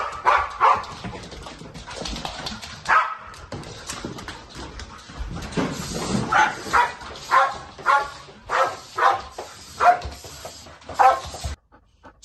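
Trained protection dogs bark hard in a long run of loud, evenly spaced barks that grow more regular toward the end, close to the microphone.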